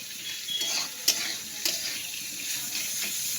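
Hilsa fish heads frying in hot oil in a pan, a steady soft sizzle with a few brief sharper pops and crackles, close and alone with no talk.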